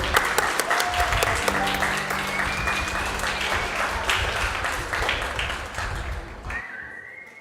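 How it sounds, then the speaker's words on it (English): A church congregation at a Unitarian Universalist service applauds the children who helped out, dense sustained clapping with a few whistles over steady murmur, fading out near the end as the room goes quieter. "Can I have a round of applause for the kids helping out today?"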